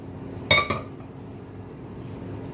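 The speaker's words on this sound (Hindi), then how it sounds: "कुकर बैठा दिया मैंने" A pressure cooker set down on a gas stove while cooking mutton curry, giving two close metallic clinks in quick succession, the first sharper and louder, then a quiet kitchen hum.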